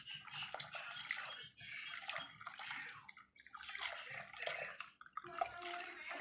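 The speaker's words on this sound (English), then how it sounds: "I'm going to throw this water into this" Water is poured into a lye and oil shower gel mixture in a continuous splashing, gurgling stream that pauses briefly between pours.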